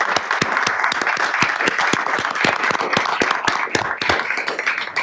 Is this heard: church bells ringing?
no